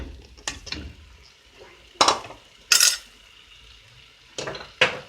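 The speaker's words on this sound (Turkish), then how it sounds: "Mercimeğini koyalım." Lentils go into a pot for celery lentil soup, heard as a few sharp metallic clatters and rattling bursts of a utensil against the pot, separated by quieter pauses, close by with no talk.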